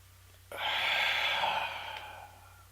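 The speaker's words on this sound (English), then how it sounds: "Deep breath in, close your eyes." A deep breath in and out during a guided visualization exercise: one long, close, audible inhale that swells and then eases off into a slow exhale, heard alone with no talking.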